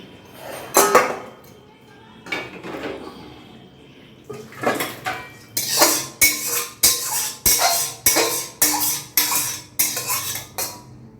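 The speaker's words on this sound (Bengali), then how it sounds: "মা এখন ঢালবে চিকেনটাকে" Chicken going into a cooking pot in a home kitchen, with a few metal knocks followed by a fast, regular run of loud spoon-against-pot clanks and scrapes close by.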